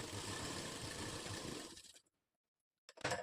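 Sewing machine stitching a katori blouse, running in one steady close whirring burst that stops abruptly, then after a short silence starts again briefly.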